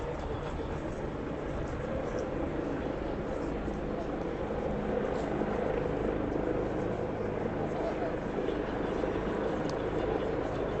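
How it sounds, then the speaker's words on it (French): A helicopter hovering above a street protest at Place de la Nation in Paris, its steady low rotor drone filling the scene continuously at moderate level with a faint crowd murmur underneath. "à part le bruit de l'hélico"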